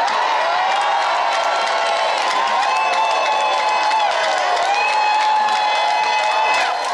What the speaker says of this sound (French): chaque bulletin au nom de Moetai Broderson est ovationné par la foule